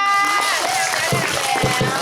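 An audience claps for children performing in a school play, a dense, continuous burst of applause with voices calling out and chattering through it.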